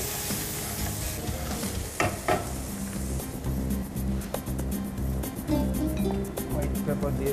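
Chopped onion sizzles and hisses steadily in a hot pan on a studio cooking show, with occasional stirring clinks and a voice talking over it throughout.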